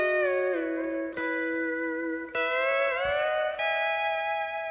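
A pedal steel guitar plays a sustained fill worked from the top F lever, with smooth gliding pitch bends, a few picked note attacks and ringing chords, close and clear with no talk.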